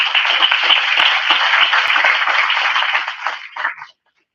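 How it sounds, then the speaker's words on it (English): A seminar audience applauds to welcome a senior university professor as keynote speaker, a dense, steady round of clapping that holds for about three and a half seconds, then thins and stops. "Let us welcome him with a round of applause."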